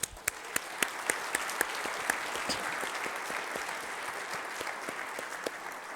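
An audience at a congressional candidate forum applauds student organizers, opening with a few sharp, distinct claps that swell into steady, fairly quiet applause from a room full of people.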